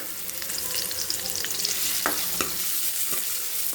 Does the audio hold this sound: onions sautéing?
yes